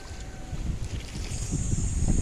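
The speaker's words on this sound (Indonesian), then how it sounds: "Cuaca di sore hari ini di sekitaran Danau Sias ada angin kencang atau badai karena mau hujan." Strong wind gusts roar across Lake Siais ahead of rain, a steady loud rush with low rumbling buffets and some choppy water noise, with no voices.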